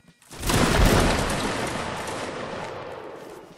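A massed musket volley fired by a line of infantry in the Napoleonic Wars battle game: a sudden broad roar of overlapping shots that swells quickly, then rolls and fades slowly over several seconds, with no talk.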